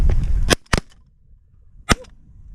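Shotguns fire during a snow goose hunt: a quick cluster of three loud, sharp reports in the first second, then a single shot after a short pause, with quiet outdoor air between.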